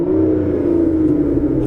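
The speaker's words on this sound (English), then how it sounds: "we are greeted by the wonderful 6-litre V12, which sounds absolutely incredible" An Aston Martin Vanquish's 6-litre V12 holds a loud, smooth, steady revving drone, heard from inside the car, with no talking.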